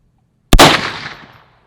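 A single loud, close .450 Bushmaster rifle shot cracks sharply and rolls off in a decaying echo lasting about a second, with no talk around it.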